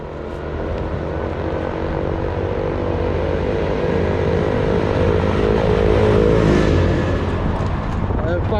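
A loud engine drone builds as a tractor passes close by, its rumble swelling and then easing, continuous throughout.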